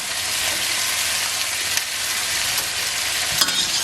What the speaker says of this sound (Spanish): Removemos otro poco